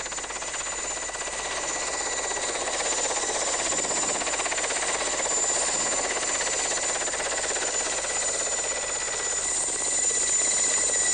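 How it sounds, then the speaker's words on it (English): A Mil-8 helicopter approaches through low clouds at a remote island camp, its dense rotor chop and turbine roar holding steady and strong throughout with no letup, fairly close. "It was a glorious sight to see the first Mil-8 helicopter diving in between the low clouds."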